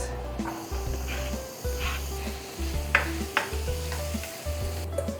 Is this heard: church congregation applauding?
no